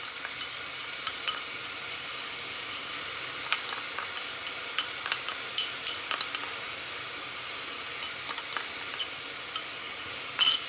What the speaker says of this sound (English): Now I'm going to add the garlic and ginger.